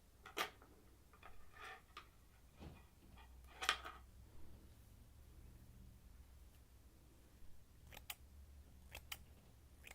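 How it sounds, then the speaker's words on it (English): Scissors snip hair in a quiet close-up during a haircut, a few sharp crisp clicks spread out with soft rustling between them. "We're gonna use different scissors for this."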